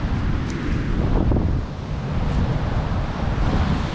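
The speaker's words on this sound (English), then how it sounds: "The wind is quite strong." Strong outdoor wind buffets the microphone in a continuous, loud, deep rumbling roar that swells slightly for four seconds during the unboxing of a paraglider, with no talk.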